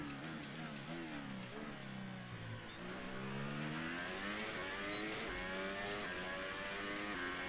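An F1 car engine in the F1 2018 video game on the Bahrain Grand Prix circuit, screaming steadily as it climbs quickly through the gears, with rising whines and brief dips at each shift, loud and continuous.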